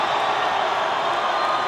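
Boxing crowd cheering and roaring as the bout between Wesley Mcdade and Bright Mdoka ends by technical knockout, a steady dense wash of voices throughout with no single standout shout.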